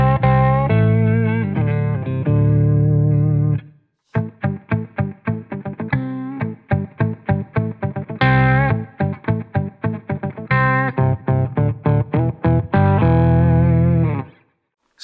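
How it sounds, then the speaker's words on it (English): An electric guitar runs through a Pearl octave pedal, giving a thick, doubled, slightly distorted tone as sustained chords give way to rapid, choppy staccato strums and riffs, loud and close with no voices. "This is a Pearl octave pedal, and it sounds wonderful."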